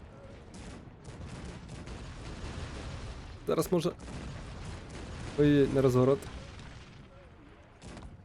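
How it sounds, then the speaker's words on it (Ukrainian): Howitzers in the video game Cossacks 3 produce a dense rumble of artillery fire throughout, with someone speaking briefly twice over the booming barrage. "І гаубицям зараз можна по дипломатичному стрільнути."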